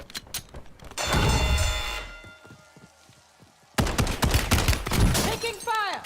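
Video game gunfire erupts in two loud bursts of rapid automatic shots with sharp cracks and rattling echoes, separated by a quieter stretch of mechanical clicks.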